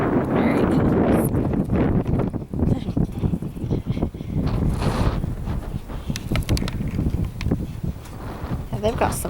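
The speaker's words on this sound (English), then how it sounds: "It's a little windy, but it's really nice." Gusty wind sweeps across an open grassy field on a bright day, roaring and buffeting the microphone loudly and almost constantly, with a person talking underneath.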